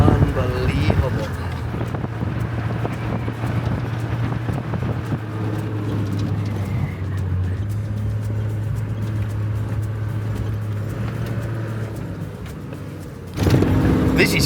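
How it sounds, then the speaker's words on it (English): A vehicle driving along remote forestry trails through mountains and valleys, with a steady low engine drone and wind rumble running throughout, loud and close, then a sudden shift in tone near the end. "just driving mile after mile of remote forestry trails, crisscrossing mountains, valleys, going across rivers"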